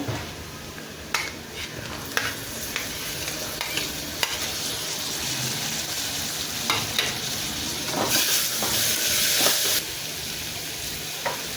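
Chopped tomatoes hit sautéing onions in a hot pan for a jackfruit-seed vegetable dish, giving a steady close sizzle with occasional spoon scrapes and stirring clatter, no talking.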